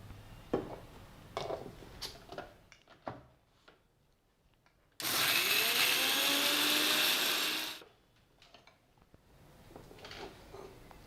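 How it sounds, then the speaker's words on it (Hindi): A mixer grinder's small jar grinds spices with a loud, steady whir for about three seconds, standing out sharply between quieter kitchen clatter before and after. "मसाला पीसने वास्ते अब मिक्सी रो छोटो जार लिया आप।"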